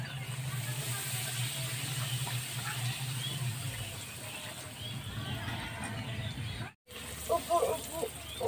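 Food fries in hot oil for a village-style pav bhaji, giving a soft, continuous bubbling hiss close by. A brief gap near the end is followed by a few voices speaking over the frying.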